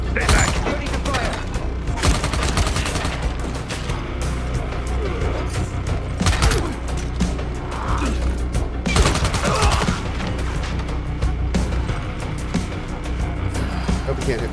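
Gunfire in the video game Dying Light: The Beast, with repeated sharp bursts of automatic fire and single shots over a constant low rumble, with vehicle-like noise and a voice talking in the mix.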